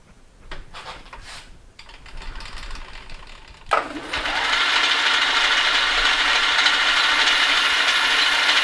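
A metal lathe chamfers the edge of a back plate for a 5-inch chuck. Light clicking and handling come first, then the cutting starts abruptly as a steady, loud hiss of machining that continues to the end.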